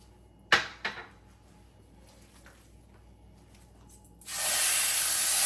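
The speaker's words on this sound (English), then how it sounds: "If it starts sizzling, it's ready to go." A couple of sharp knocks, then quiet, then a loud, steady hiss of oil sizzling in a hot pan, tested with flour before searing pot roast meat, starts abruptly close by.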